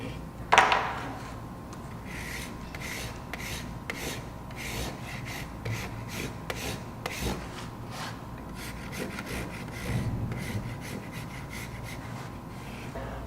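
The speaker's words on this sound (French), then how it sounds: "je vais venir égaliser. Moi, j'utilise un couteau ou un surforme." Surform rasp or knife scraping across a plaster press mould for ceramics, a steady close rubbing and rasping texture that runs continuously throughout with repeated strokes, no talking.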